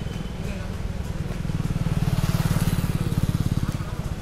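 Motorcycles setting off on a mountain road trip from Rampur toward Berinag: a near engine with a rhythmic, pulsing exhaust beat, rising and holding under wind noise and possible voices.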